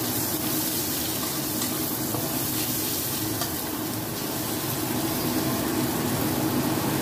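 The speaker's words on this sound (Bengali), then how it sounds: "পেঁয়াজটা হালকা ভেজে নেব।" Chopped onion frying in a pan for spinach with prawn makes a dense, even sizzle that holds steadily throughout, close and continuous.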